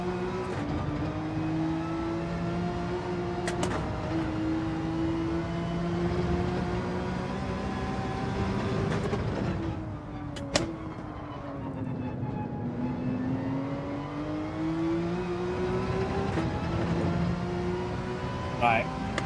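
Race car engine on a lap in Gran Turismo 7, a continuous high whining drone that rises and dips with gear changes and corners, with talk running over it throughout.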